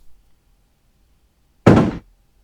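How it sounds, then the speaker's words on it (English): A single heavy thump as a CNC machine tray is tipped backwards onto its back during a restoration. One short, loud, dull impact in an otherwise quiet space. "wait for the thump"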